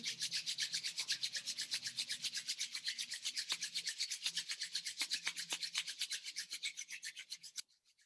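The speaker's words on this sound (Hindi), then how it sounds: "हाथों को रब कर लेंगे।" Hands rubbing briskly together in a steady, fast back-and-forth rhythm, a close dry swishing that runs for several seconds before stopping abruptly.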